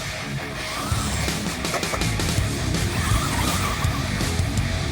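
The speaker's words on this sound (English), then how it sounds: "Off-road speed run. And off-road it actually handles really well." A Hosim X08 RC car tears along off-road at speed, its motor whining continuously under gritty skidding and crunching of dirt, loud and close throughout with no talk.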